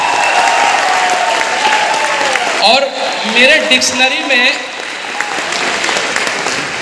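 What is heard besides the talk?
audience applause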